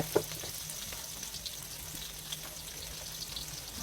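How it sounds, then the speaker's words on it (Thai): Garlic, bell pepper and onion stir-fried in hot pork lard in a pan, giving a steady, faint sizzle with occasional soft scrapes and clicks of a utensil, no voices. "แล้วก็ผัดให้เข้ากัน"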